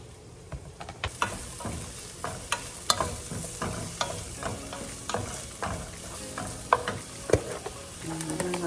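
Green peppers and mushrooms sizzle in olive oil, a steady close frying hiss broken by frequent scraping stirs and utensil taps against the pan.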